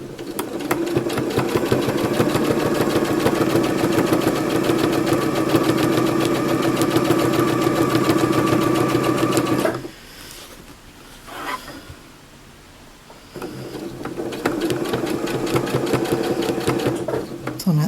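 A low shank sewing machine stitching a quilt square, its loud, fast, steady motor hum and needle chatter running for long stretches, pausing briefly in the middle before starting again.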